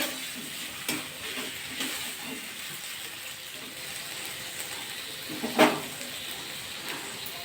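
Shrimp frying with cabbage in a pan, a steady soft sizzle with faint scraping as the mix is stirred, one louder clatter near the end; no talk.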